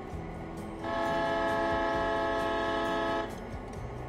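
A steam locomotive horn in the train game Railroader sounds as one sustained, steady blast lasting a few seconds, rising clearly over the low rumble of the engine and then cutting off.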